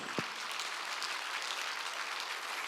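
A church congregation claps in a steady, even wash of applause, moderately distant and continuous, with no talking over it.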